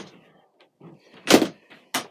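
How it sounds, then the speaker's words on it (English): Shower doors in a motorhome are shut, giving two short sharp knocks of the closing doors and their catches, with faint handling sounds in between. "To close the doors, top catch, close it behind"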